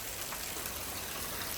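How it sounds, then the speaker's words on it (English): Heavy thunderstorm rain pours down steadily in Frisco, Texas, a dense, even hiss of water with no talking. "This rain's really picking up."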